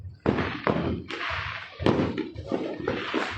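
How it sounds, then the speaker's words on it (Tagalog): New Year firecrackers bursting at a celebration, several sharp loud cracks at uneven intervals, each trailing into a brief hiss and rumble. "Yon, tapos na yun ang mga paputok."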